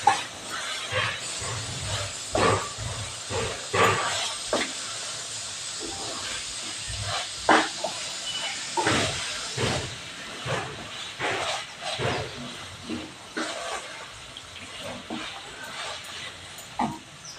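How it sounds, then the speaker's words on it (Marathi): Pavta and cashew usal is sautéed in masala, with a hissing sizzle under repeated scraping and knocking strokes of a spatula in the pan, irregular and fairly close. "चांगले मसाल्यावर परतून घेणार आहोत"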